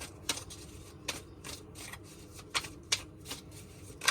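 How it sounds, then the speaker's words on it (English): Tarot cards being shuffled by hand, a quiet run of soft riffling bursts and crisp snaps repeating every half second or so, with no voices. "One more shuffle here."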